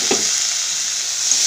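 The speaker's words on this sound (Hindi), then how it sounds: "और इसे अच्छी तरीके से भून लेती हूँ मैं।" Banana flower fries in hot oil in a pan, a bright crackling hiss that stays even throughout the short stretch, with no voices.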